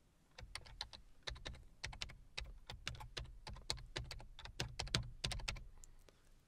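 Typing on a computer keyboard while entering a PowerShell command: a quick, uneven run of crisp key clicks and taps, close and fairly quiet, with no voice.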